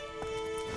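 A horse in The Witcher 3 video game sets off with a few quick hoof clops and a brief hoof thud at the end, soft and close over a steady tonal game background.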